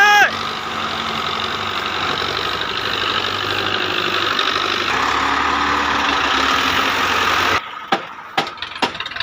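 A Millat tractor's diesel engine runs loud and close with a steady rumbling drone while pulling a trolley loaded with soil, ending in a few sharp knocks and clunks near the end.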